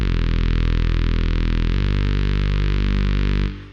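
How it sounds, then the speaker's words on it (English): A loud, sustained, gritty Reese synth bass drone, saturated and made in Ableton Operator, with a wide, washy reverb tail, its tone shifting partway through before cutting off cleanly. "we're going to go ahead and just take a reverb just to get it really wide sounding"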